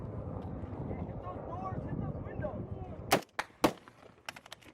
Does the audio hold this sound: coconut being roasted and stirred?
no